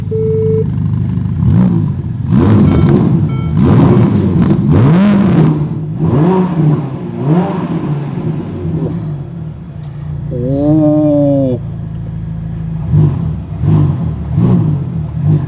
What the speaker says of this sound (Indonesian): Sekarang kita dengerin suara mesinnya.